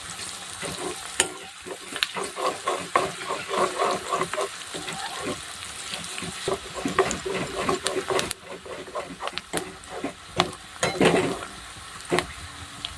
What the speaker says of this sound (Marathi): अशाच पद्धतीने ढवळत राहायचं मस्त पूर्ण कांदा छान तळून घ्यायचा आहे